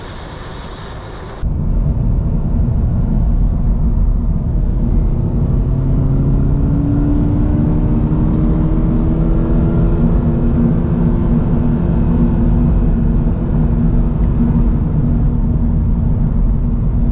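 A Subaru BRZ engine drones steadily and loudly while driving, a continuous cabin hum with a slowly rising tone as the car accelerates, with no talking over it.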